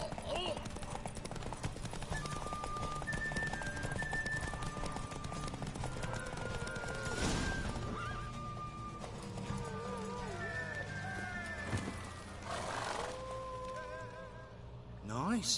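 In The Witcher 3, horses gallop during a race, a rapid rhythmic clip-clop of hooves with an occasional whinny, running steadily under game music and voices, with a louder burst near the end.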